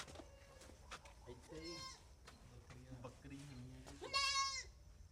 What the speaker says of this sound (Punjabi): ਬੱਕਰੀ ਆ।